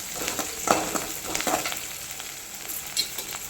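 Curry leaves crackle and sizzle as they drop into hot oil for a carrot poriyal, with a few sharp pops over a soft steady frying hiss, close and moderately quiet.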